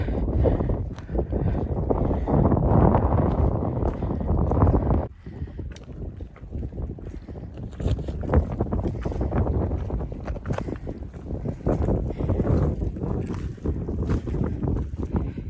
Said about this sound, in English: it is so windy and cold